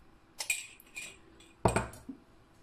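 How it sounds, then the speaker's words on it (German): A spoon stirs salt into a pot of simmering liquid, giving a few light metallic clinks and scrapes against the pot, close and quiet, with no voices. "Gut umrühren."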